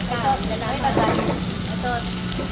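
Pepper Lunch rice mixed and sizzling on a hot iron plate in a mall restaurant: a steady, fairly loud sizzle with stirring scrapes, with people talking in the background.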